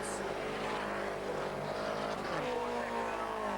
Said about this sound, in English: Locking up through Paddock Bend, and McGovern braking hard and not profiting by that manoeuvre